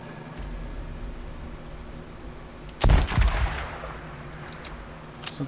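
A single heavy gunshot in the game Days Gone, one loud close blast with a short rumbling tail over quiet background, followed by a couple of faint clicks.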